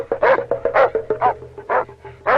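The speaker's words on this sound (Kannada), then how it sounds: "ಅಲ್ಲೇನೋ ನಾಯಿ ಬಗಳ ಸೌಂಡ್ ಕೇಳಿಸ್ತಾ ಇದೆ" A dog barks repeatedly in quick, evenly spaced yaps, close and loud, with a steady low hum underneath.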